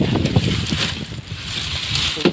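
Strong monsoon wind with low-pressure weather at a coastal fishing spot buffets the microphone in a steady, loud broadband roar, with gusts swelling and easing throughout and no voices.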